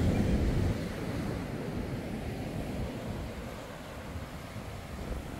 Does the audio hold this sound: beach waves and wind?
yes